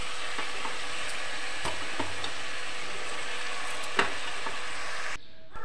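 Onions and spinach for palak curry being stirred and fried in a pan, a steady close sizzle with periodic spatula scrapes and taps, cutting off abruptly near the end.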